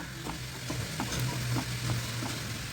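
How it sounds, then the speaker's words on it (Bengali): Boiled potatoes being mashed by hand, soft repeated squishing presses and light taps in a steady rhythm over a faint background hum. "ছুটিগুলো না শুধু আলুগুলো আমি ম্যাশ করে নেব"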